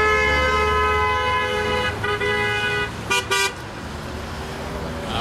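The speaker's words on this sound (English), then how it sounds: "As you hear the horns honking" Car horns honk from passing traffic at a roadside labor picket in Indianapolis, one long steady blare over road noise, then two short sharp toots near the three-second mark.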